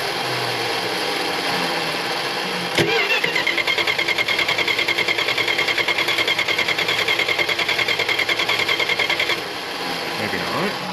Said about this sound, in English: so I'm gonna see if this thing will now fire up and idle for a little bit.